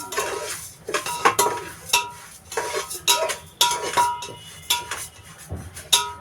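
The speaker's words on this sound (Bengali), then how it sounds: "ডেকসিটা গরম হয়ে গেছে আমি ডালটা ভেজে নেবো" Chana dal being dry-fried in a hot pot for Bengali bhoger khichuri, heard as a run of repeated metallic scrapes and clinks of a spoon against the pot, coming in irregular bursts with no talking.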